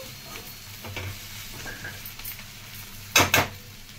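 Cauliflower and broad beans sizzle softly in a pan while a spoon stirs through them with light scraping, then two quick, louder clanks of the utensil against the pan near the end.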